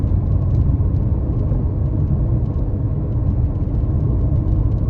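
A car engine pulls hard while the driver whips it around a corner, a steady loud rumble with rising revs as it climbs toward fourth gear, close and continuous with no voices.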